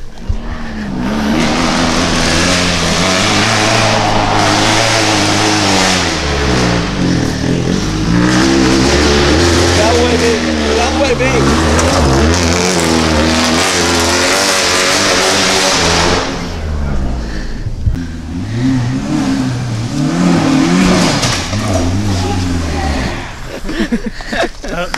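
An off-road vehicle at the Georgia Gambler 500 event, running on a freshly strapped-down engine with a new engine mount, revs and drives loudly and close by for the whole stretch, its engine pitch swinging up and down, with voices mixed in.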